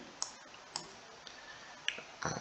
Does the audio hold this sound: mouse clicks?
yes